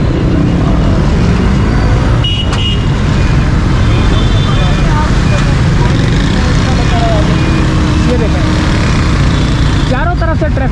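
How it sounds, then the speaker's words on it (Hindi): Busy road traffic streams across Qayyumabad bridge in Karachi, a dense continuous roar of cars, trucks and motorcycles close by, with occasional horn toots and a passing whine, while someone talks over it. "कयूमाबाद का ब्रिज, चारों तरफ से जो है ना ट्रैफिक जाती है यहाँ पे"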